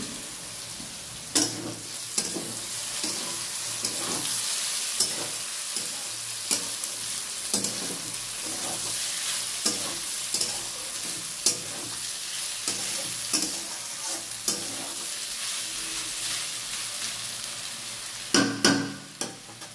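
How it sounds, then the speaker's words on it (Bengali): Potatoes fry in a pan with a steady, close hiss of sizzling oil throughout, broken by occasional scraping and clinks as they are stirred, with a louder clatter near the end and no speech. "আলু ভাজা হচ্ছে।"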